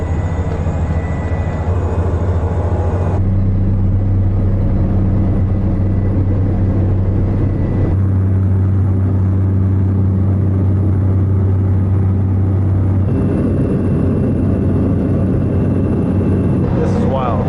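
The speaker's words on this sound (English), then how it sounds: "Definitely never been on a flight this small before." Small passenger airplane cabin on a flight over Suriname, filled with a loud, steady low engine drone and humming harmonics that hold continuously throughout, shifting slightly in tone at a few points.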